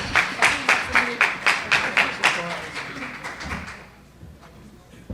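An audience claps in a strong, unison rhythm at a San Francisco community event, about ten loud beats that loosen and fade into scattered claps and quiet.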